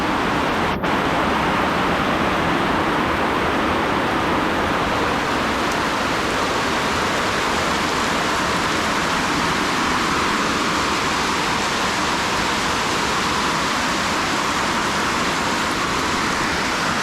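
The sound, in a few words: heavy rain pouring at a jungle camp in Guatemala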